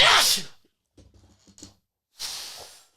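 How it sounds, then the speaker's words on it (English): A person lets out a loud, explosive sneeze, then after a short pause with faint breathy rustles a second forceful sneeze bursts out near the end. "Oh, I'm gonna sneeze. Ready? Big St. Patrick's Day sneeze."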